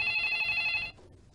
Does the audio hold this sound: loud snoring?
no